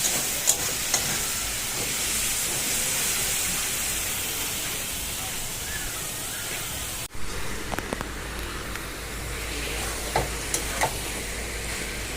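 Spices, onion, tomato, ginger and garlic fry in oil with whole cumin in a home kitchen, giving a steady close sizzle and hiss with a few scraping stirs, and a short break partway through.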